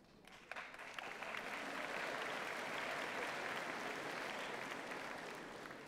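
Graduation ceremony audience breaks into applause, building quickly after a few scattered claps into a sustained, even wash of clapping heard from within the hall, tapering slightly at the end.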